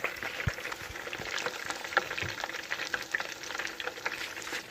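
French fries crackle and sizzle steadily in hot oil, a dense bubbling hiss with occasional louder pops and scraping stirs, fairly close.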